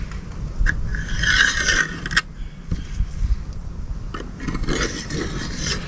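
A Stihl chainsaw chain is sharpened with a hand file, giving close rasping scrapes in short strokes with brief pauses between them and no talk.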